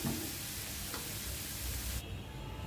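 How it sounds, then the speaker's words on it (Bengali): Tomato and onion fry in a pan with a steady, dense sizzle that stays loud and unbroken, then turns slightly duller near the end. "আমি টমেটো পেঁয়াজ একটু ভেজে টমেটো বেশি করে দিয়ে দিয়েছি।"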